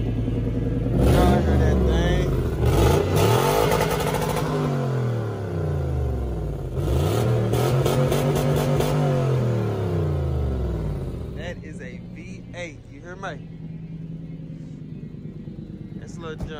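Lexus car engine with exhaust leaks from scraping, revved repeatedly in loud rising and falling blips with a rough, raspy note, then dropping to idle as voices talk nearby.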